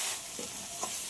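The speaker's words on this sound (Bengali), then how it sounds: "5 মিনিট মতো কুলগুলোকে ভেজে নিতে হবে।" Jujubes fry with spices and dried chillies in a pan, a soft steady sizzle with two brief scraping stirs, faint and close.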